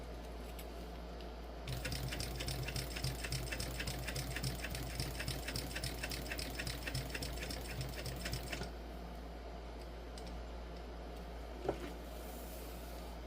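A home sewing machine stitches a crossbody bag in one steady, fast run of rhythmic needle clatter lasting several seconds, set against a low background hum and followed by quieter handling.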